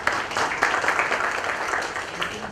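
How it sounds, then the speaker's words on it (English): Audience applause at an 8th anniversary club celebration, a steady mass of clapping from a crowd filling the room for a couple of seconds with no voices over it. "I request all club just clap for the 8th anniversary of our OHR"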